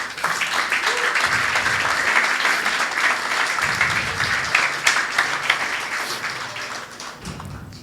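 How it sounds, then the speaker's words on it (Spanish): A church congregation breaks into loud, sustained applause during a sermon, a thick wash of many clapping hands that holds steady for several seconds before easing slightly toward the end. "Un fuerte aplauso para Dios"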